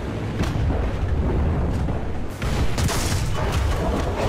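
Tank and artillery gunfire in War Thunder on a beach battlefield, a dense continuous barrage of booms and blasts with several sharper close hits, loud throughout with no talk.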